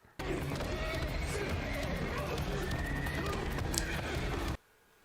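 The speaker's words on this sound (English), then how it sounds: "Horse fighting." Horses neigh and scuffle in a loud, chaotic fight scene from the 2019 film John Wick: Chapter 3 – Parabellum, with whinnies and thudding movement filling the clip before it cuts off abruptly near the end.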